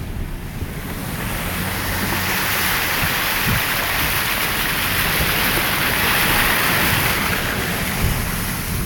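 A car drives through deep floodwater on Houston streets after Hurricane Harvey, giving a loud, continuous rushing wash of water that swells slightly and holds for the whole stretch, with no voices.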